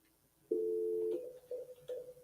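A steady telephone dial tone sounds clearly for about half a second, followed by a few shorter tonal beeps as a call is placed.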